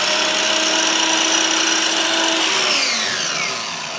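A miter saw cuts through wood at close range, a loud steady whine that holds for several seconds, then slowly drops in pitch as the blade spins down.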